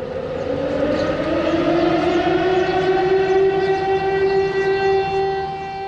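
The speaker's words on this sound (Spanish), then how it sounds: "suena una sirena para despertar a la ciudad y sus moradores" A loud, sustained city siren at 7 a.m. in North Korea, sounding to wake residents, slowly rises in pitch over several seconds, droning steadily above a low background rumble before easing slightly at the end.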